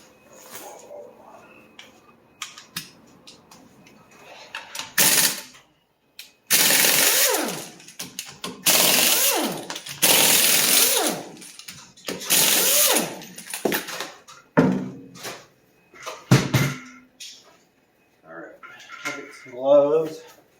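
Tools working on the wheel of a VW MK1 Rabbit during a wheel cylinder repair, with rapid ratcheting bursts, metallic clinks and clatter in separate spells between quieter pauses, close up, with people talking at times.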